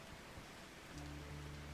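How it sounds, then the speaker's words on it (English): Steady rain in the video game WolfQuest, a soft, even hiss that stays faint and continuous throughout, with a low hum beneath it in the second half. "It's raining again."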